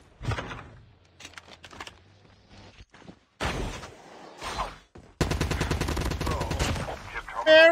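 AK-47 gunfire in the mobile shooter Call of Duty Mobile, bursts of rapid automatic shots broken by short gaps, loud and close, with game sounds and brief voices around them.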